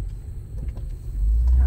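Car rolling slowly into the River Bend Campground at Powhatan State Park in Virginia, a low engine and tire rumble heard from inside the cabin that swells louder toward the end.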